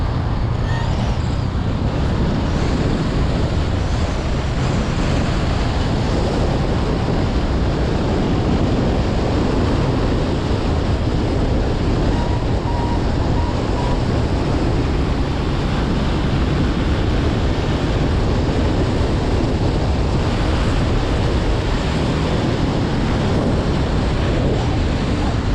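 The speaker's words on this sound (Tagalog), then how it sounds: "Dagat to." Sea waves at a coastal spot in Laurente, a steady broadband wash of surf with wind buffeting the microphone, continuous and fairly loud throughout with no clear breaks.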